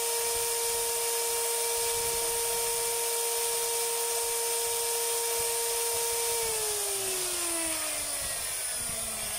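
An electric motor armature, sparking heavily at its carbon brushes, runs with a loud, steady high-pitched whine and buzzing hum that holds level and then drops in pitch as it begins to slow.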